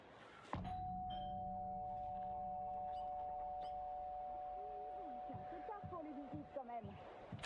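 A doorbell rings in the video game Alan Wake 2, a clear sustained chime that starts sharply and fades slowly, followed by voices speaking near the end.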